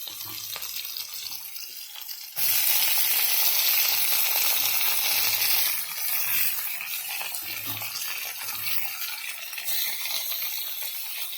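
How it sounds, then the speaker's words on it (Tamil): Tomatoes drop into a pan of popped mustard seeds and softened onions, and a loud, close sizzle bursts up, then settles into a steady frying hiss with occasional stirring scrapes. "கடுகு பொரிச்சு வெங்காயம் சேர்த்து வதங்கினோடனே தக்காளி சேர்த்துக்கிறேன்"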